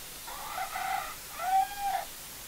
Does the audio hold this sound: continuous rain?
no